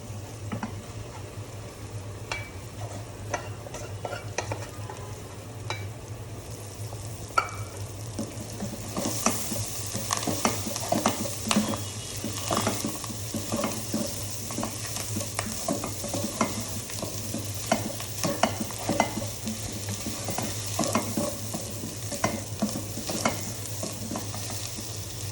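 Fish roe stirred and fried in spiced oil, a steady sizzle with repeated scraping stirs that grows louder and hissier partway through as the roe hits the hot pan.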